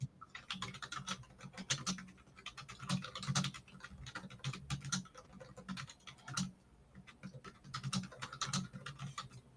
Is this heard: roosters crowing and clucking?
no